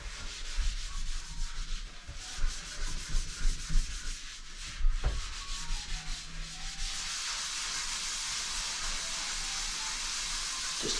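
Scrubbing the stainless steel sides of a Revere Ware pan with Bar Keepers Friend makes a close, steady back-and-forth rasping under pressure, with rhythmic strokes giving way to a continuous hissy rub.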